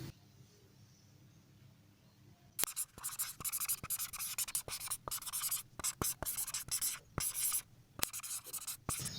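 Chalk or marker writing on a board during a math lesson, a series of quick scratchy strokes and taps in irregular bursts, fairly close, following a quiet stretch.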